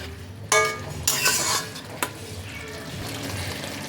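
Boiled cabbage and fish head get stirred in a pot with a few sharp metal clanks and scrapes of a spoon against the vessel, then a softer low bubbling simmer continues in the background.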